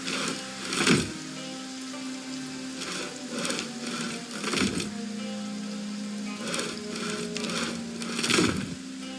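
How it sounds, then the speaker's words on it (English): Logs being sawn in a video game while base-building with carpentry: a steady mechanical rasp and hum with sharp, recurring bursts every few seconds, moderately loud and unbroken, with no voices. "Let's go ahead and do some sawing."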